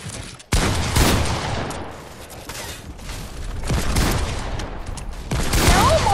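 Gunfire in a first-person shooter video game plays as a series of loud, sharp bursts and rapid volleys, with short gaps and echoing tails between shots.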